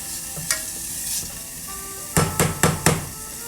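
Onion sautéing in a pan, a steady sizzle with an early clink, then four quick loud spoon or spatula knocks against the pan, close and without speech.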